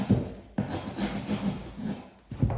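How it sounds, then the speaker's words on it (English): A chisel shaves a ridge off wood flooring near a doorway, making close, rough scraping strokes, with about three distinct passes separated by brief pauses. "I'm going to take our chisel and shave this ridge off"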